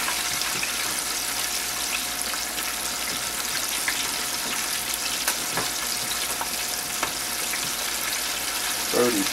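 Chicken fries in hot lard, a loud, dense sizzle that runs continuously, broken by a few faint clicks and a small bubbling burst near the end.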